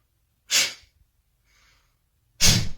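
Yoga breathing: two sharp, forceful exhalations a couple of seconds apart, close and loud, with near silence and a faint soft breath between them.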